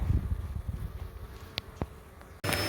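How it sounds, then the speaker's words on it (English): Bees buzz steadily during a bee vacuum relocation of a pillar beehive, a close, continuous insect drone with a couple of brief sharp bursts and a louder broadband rush near the end. "we'll start bee vacuuming, and we're well on the way."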